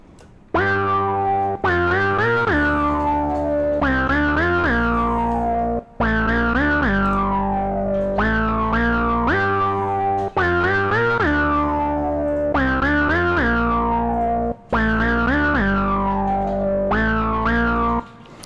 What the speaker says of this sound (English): I have the melody that I played earlier on here